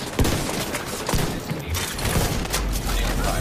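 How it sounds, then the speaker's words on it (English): Shotgun fire in a video game comes as a rapid, loud barrage of booming blasts and thuds, several overlapping shots with a rumbling low end, over chaotic background noise. "They all spamming them damn shotguns"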